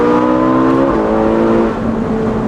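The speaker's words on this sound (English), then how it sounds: "On throttle, the intake noise hardens. The car really has a nice sound out back." Ferrari 458 with a Valvetronic Designs exhaust revving up close, a loud rising engine tone that peaks and then eases into a steadier hum.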